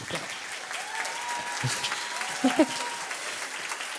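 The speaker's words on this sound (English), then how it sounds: "please could you give her a very, very warm round of applause at the stage" An audience applauds to welcome someone speaker to the stage at a talk event, a steady moderate patter of many hands clapping throughout, with a few louder claps near the end and faint tonal sounds beneath.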